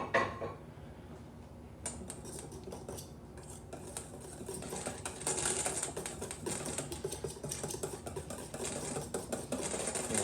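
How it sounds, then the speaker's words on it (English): Blueberry muffin batter whisked in a bowl, a continuous close scraping and clinking of the whisk against the bowl that grows slightly busier partway through, with no talk. "Whisk it all together."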